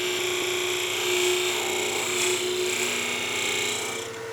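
Carbide tool cutting stabilized material on a wood lathe spinning at high speed while turning a pizza cutter handle, giving a steady close scraping hiss with a sustained hum and no talking.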